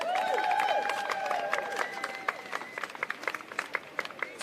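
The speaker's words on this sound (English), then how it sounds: "Give yourself a round of applause for that energy." A crowd at an Extinction Rebellion protest claps and cheers in a brief burst. Voices shout at first, then scattered hand claps continue, moderately close but not very loud.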